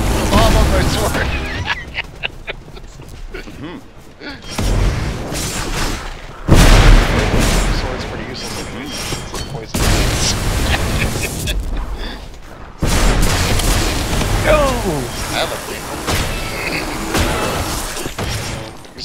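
Spell bomb blasts in the video game Magicka go off as repeated loud booming bursts with crackling, shattering debris, spread across a chaotic co-op fight while players talk over the action.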